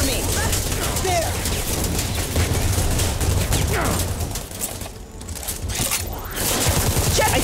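Rapid bursts of gunfire in a shooter video game, loud and near, running almost continuously with a brief lull midway before firing picks back up.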